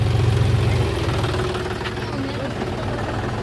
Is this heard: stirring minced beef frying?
no